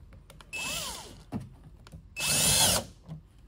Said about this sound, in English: Now that they're on there temporarily with the adhesive, we'll screw them on.